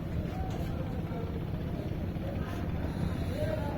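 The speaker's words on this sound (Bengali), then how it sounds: "দেখেন এই ট্রলারটি রুলিং করতেছে কীরকম" A trawler boat carrying coconuts drones steadily on the water, its low engine hum mixed with wind noise and faint background voices.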